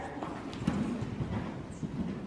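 A horse canters in a riding arena, its hooves thudding in a steady rolling rhythm at moderate distance, with faint background noise.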